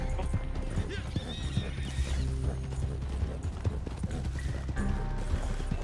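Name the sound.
horse galloping and neighing in a video game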